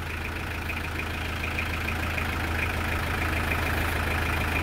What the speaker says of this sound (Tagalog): So intercooler turbo Pajero 4056 engine.